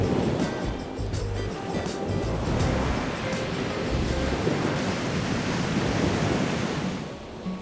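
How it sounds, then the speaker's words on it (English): Ocean waves crash steadily onto the rocky beach at Waimea Bay, Hawaii, a loud, continuous roaring surf with wind buffeting the microphone throughout and no voices. "Big rocks, crashing waves, a spectacular beach"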